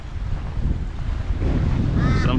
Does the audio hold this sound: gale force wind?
yes